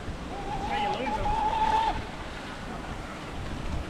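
A restored, old radio-controlled boat runs on the water. Its motor gives a thin, steady whine for about a second and a half, then fades back into constant wind and water noise.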